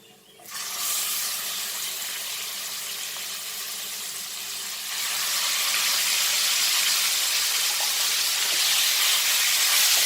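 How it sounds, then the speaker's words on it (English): Mutton frying in a pan over a medium flame, a steady close sizzling hiss that jumps in at the start and grows louder and denser about halfway through, with no talking. "And let this fry nicely on a medium flame."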